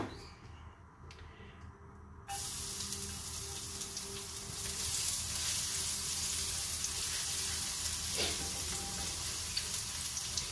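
Butter, hot dog, minced onion and garlic frying in a pan for Filipino spaghetti, a steady close sizzle that jumps louder after a couple of seconds and continues with faint stirring.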